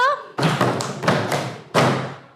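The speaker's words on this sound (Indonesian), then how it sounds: "Ayo, tepuk semangat" Schoolchildren in a classroom deliver a few loud, unison clap-thuds in a rhythmic clapping chant, close and forceful, with voices mixed in.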